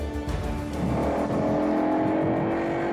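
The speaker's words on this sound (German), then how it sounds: "Bei diesem Megadrift minimiert Matthias übrigens das Profil der Hinterreifen beträchtlich." A heavily tuned car holds a long drift as its rear tires scrub and squeal, the engine roaring loud and steady throughout with no voices.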